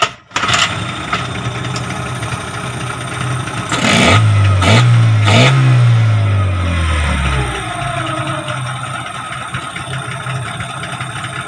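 A Yamaha 15 hp outboard motor that is hard to start when cold catches after a short pull, revs up loudly in a few rising surges, then drops back to a steady, rattly idle close by.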